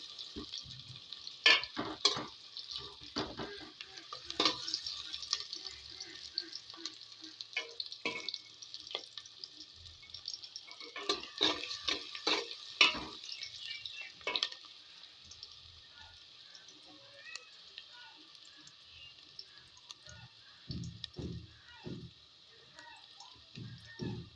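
Chopped onions stirred and fried until light brown in a pan, a soft continuous sizzle punctuated by repeated sharp scraping and clattering of a spatula, with occasional quiet voice in between.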